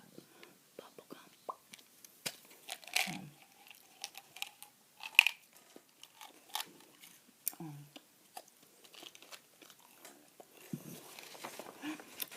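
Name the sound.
chewing sugar-free Bazooka bubblegum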